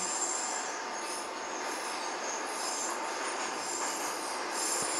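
An 81-717 metro train rides the Avtozavodskaya line, a steady loud roar of wheels on rail with high squealing and faint rhythmic clicks throughout.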